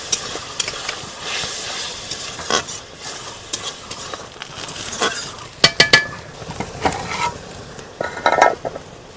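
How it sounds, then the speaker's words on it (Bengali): Spice paste with a little sugar and water is stirred and fried in a pan for a bata fish jhal: a continuous close sizzle with repeated scraping stirs and occasional clinks of the utensil. "সামান্য একটু জল দিয়ে মশলাটাকে ভালো করে নেড়ে নিতে হবে, যাতে মশলাটাকে পুড়ে না যায়"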